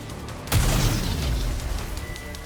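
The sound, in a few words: explosions from homemade explosives in video game NIKKE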